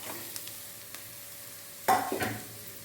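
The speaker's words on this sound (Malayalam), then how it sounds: "നമുക്കിനി തിരി ചിരകി വെച്ചിരിക്കുന്ന തേങ്ങ ഇട്ട് കൊടുക്കാം" Grated coconut is tipped into a pan of frying spinach stir-fry, giving a soft sizzle with a few light clicks before a brief louder stirring scrape near the end, with no talk.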